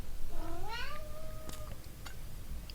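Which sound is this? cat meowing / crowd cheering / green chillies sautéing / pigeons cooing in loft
cat meowing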